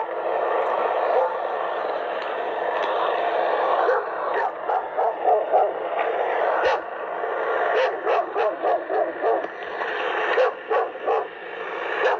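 A dog barks repeatedly in short bursts over a steady background hum, the barks clustered and sharp, moderately distant.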